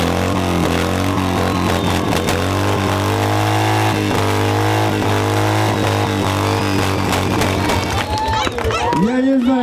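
A K-750 motorcycle engine roars loudly and steadily at an outdoor biker show, a dense continuous drone with crowd noise beneath it and a revving swell near the end.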